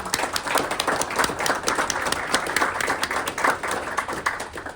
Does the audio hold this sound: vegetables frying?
no